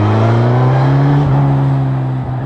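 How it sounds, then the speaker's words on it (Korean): A second-generation Suzuki GSX-S1000 motorcycle with its K5 inline-four engine being ridden, a loud, steady droning engine note close up that dips briefly and then holds an even pitch as it cruises. "GSX-S 1000의 K5 엔진은 거리를 달리는 이상적인 엔진이라고 하는데"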